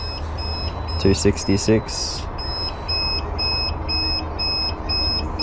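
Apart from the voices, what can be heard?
repeated electronic beeping during battery cell stress test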